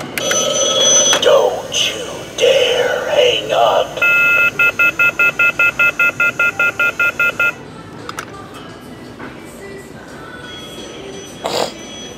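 A telephone on a store display plays a run of evenly spaced touch-tone button beeps, loud and close, and people talk before and after the beeps.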